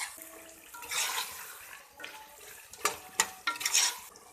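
A spoon scrapes and stirs through chickpeas in a pan with soft sizzling, in uneven strokes that grow louder and sharper toward the end.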